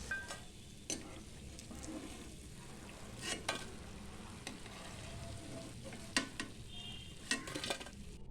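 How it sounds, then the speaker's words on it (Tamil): Slices of bread fry quietly in a pan for bread halwa. The low, even sizzle carries a few sharper spatula clinks and stirring scrapes. "இப்போ மிச்சம் உள்ள ஸ்லைசஸையும் நம்ம நல்லா பொரிச்சு எடுத்துடலாம்."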